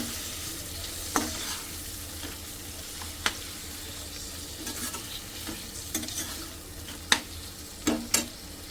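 Tomatoes cooking in a pan for vegetable biryani, low steady frying hiss with occasional spatula scrapes and a few louder clacks near the end, nobody speaking.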